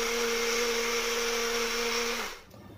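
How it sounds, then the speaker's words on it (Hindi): A kitchen mixer grinder whirs steadily while grinding four pitted dates, a loud even motor drone with a fixed pitch that cuts off abruptly near the end. "अभी मैं इसे मिक्सी में पीस लूँगी।"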